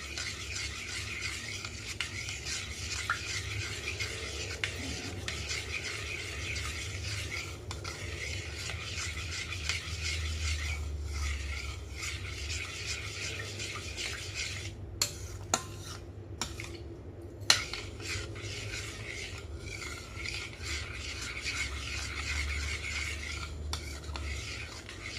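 Sticky rice mixture for suman malagkit is stirred in a pot, a steady close scraping and rubbing of utensil against the pan going on without pause, with a few sharper knocks and no voices.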